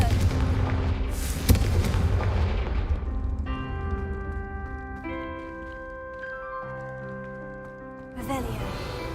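A Confringo fire spell explodes in the video game Hogwarts Legacy: one heavy booming blast, then rumbling decay under sustained tonal game music, which ends with a fresh noisy burst.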